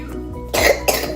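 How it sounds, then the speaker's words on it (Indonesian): One person with a bad cough lets out two harsh, close coughs about a third of a second apart, after a short quiet moment at the start. "Denger kan? Batuknya parah banget."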